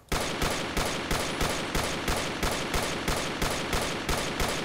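A Saiga 12k shotgun in Fallout New Vegas fired semi-automatically as fast as possible, about thirteen loud, evenly spaced booming shots in quick succession, each one barely fading before the next.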